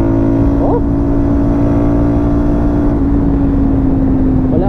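A CF Moto 450 MT motorcycle ridden along Daang Kalikasan in Mangatarem, Pangasinan, its engine holding a loud, steady hum with a strong tonal whine and a brief rise in pitch near the start, with no clear talking.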